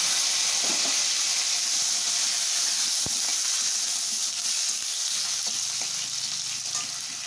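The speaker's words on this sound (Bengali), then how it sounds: "দিয়ে দিচ্ছি সরষের তেল, দিয়ে আলু কটা আগে" Potatoes frying in mustard oil, a strong continuous hissing sizzle close up, with a few faint clicks and stirring touches and no talking.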